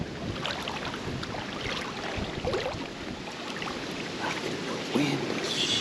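Gusty wind buffeting the microphone outdoors on a windy Hong Kong fishing day, a continuous broadband rush with low rumbling bursts, close and fairly loud throughout.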